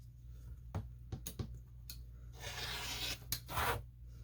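A rotary cutter blade, freshly replaced, slices through holiday panel quilt fabric into 8.5-inch rectangles, giving soft scraping rasps and a few sharp ticks of the ruler and tool, with a longer gritty cutting stroke near the end over a low steady hum.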